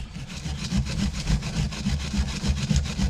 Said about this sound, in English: I just give it a quick brush everywhere.